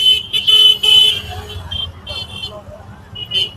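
Car horns honk repeatedly in short bursts over a low rumble of idling traffic in a jam on the old Mumbai–Nashik Agra Road near Bhiwandi, with people talking nearby.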